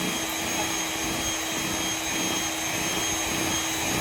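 Kitchen grinding machine whirring steadily as it grinds soaked lentils for bori, a loud continuous motor drone with no pauses.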